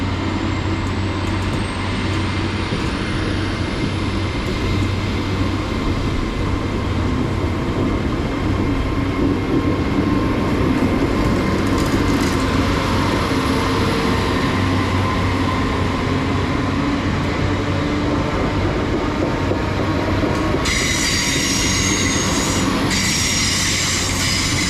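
A train passes through Bath Spa station on the Great Western Main Line, a loud sustained rumble of wheels and rails close by, with squealing near the end and no one talking.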